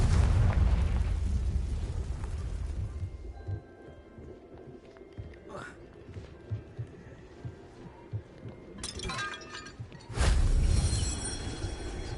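Fire-spell blasts from the video game Hogwarts Legacy: a heavy rumbling burst opens, then quieter crackling and thuds, before a second loud explosive whoosh erupts near the end.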